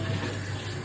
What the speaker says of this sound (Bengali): একটু জল দিয়ে